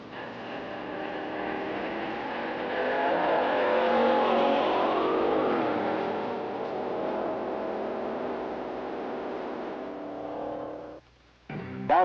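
Supercharged unlimited dragster engines at a 1964 drag meet rev and drone in a loud, continuous surge that builds to a peak and holds before cutting off abruptly near the end, followed by a brief burst.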